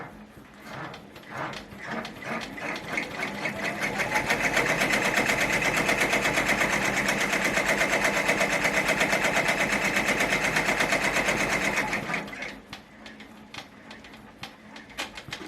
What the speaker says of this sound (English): It's laying down its foundation for the satin stitching now.